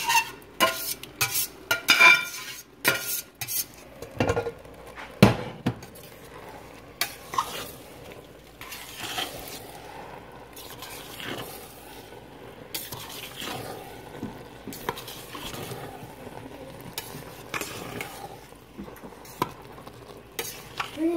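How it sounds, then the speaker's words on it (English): Noodles being stirred in a pan, irregular close scraping and clinking of a utensil against metal over a low sizzle, loud bursts then quieter stretches, no talking. "you just need to stir it"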